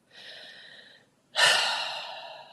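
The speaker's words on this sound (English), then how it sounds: "take a slow, deep breath through your nose for 4, 3, 2, 1. Hold for 2 and exhale through the mouth" A single slow breath: a soft, airy inhale through the nose, a short pause, then a louder, rushing exhale through the mouth that fades away, close and alone.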